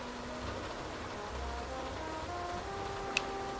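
Steady rain falling at a port pier in the noir video game Face Noir, a quiet continuous wash with a faint tick near the end.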